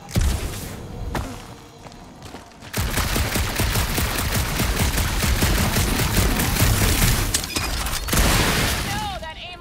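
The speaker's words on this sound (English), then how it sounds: "that aimless shooting isn't gonna scare the monsters away" Loud rapid gunfire rattles almost continuously in Guardians of the Galaxy as shots are fired at monsters on a dark monster planet, with dense bursts and booms, and voices chatter over the action.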